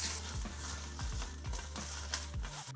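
Food cooking in a pan gives a steady sizzle with occasional stirring scrapes and low thumps running through it, close and fairly loud, with no talking.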